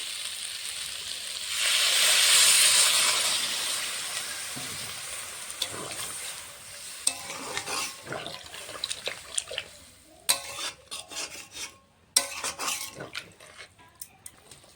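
A vegetable curry cooked with ginger, cumin and chili paste sizzles loudly as water goes in, then bubbles and simmers more quietly in the pan, punctuated by sharp clinks of a utensil.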